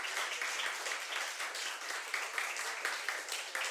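A church congregation applauds during a worship service, sustained dense clapping from many hands that continues evenly throughout, with a voice faintly audible beneath it.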